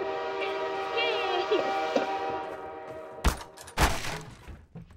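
A sustained train horn blares in a Garry's Mod railway level, steady and harmonic for about three seconds before cutting off, followed by two sharp crashing bursts; voices talk faintly underneath.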